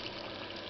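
Boiling water is poured over already fried potato chips in a pot for a leftover soup, a brief steady gush of liquid.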